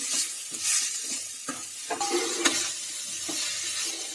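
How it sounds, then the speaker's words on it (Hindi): Carrots for gajar ka halwa sizzle as they fry in a pan, with a utensil stirring and scraping in steady, close strokes and no talking. "अब डालेंगे इसमें गाजर और इसको भूनेंगे।"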